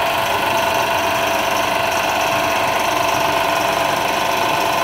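A vacuum pump runs steadily for a Macleod gauge, giving a loud, continuous mechanical hum and whir that holds even from start to finish with no talk over it.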